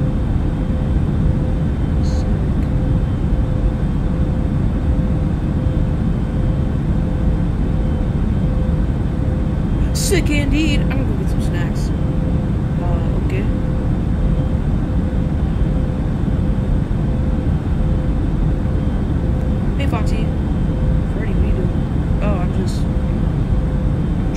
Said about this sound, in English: It's pretty cool being on an airplane, get, going somewhere.